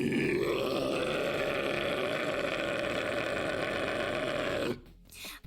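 A long, low, rumbling burp from a cartoon character, a sustained guttural drone that holds steady for several seconds before cutting off abruptly into near silence.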